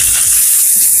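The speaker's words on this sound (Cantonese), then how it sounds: "而家我哋咧就煸咗芽菜先" Bean sprouts stir-fried in a hot wok, a loud steady sizzle with scraping stirs underneath, continuous and close throughout.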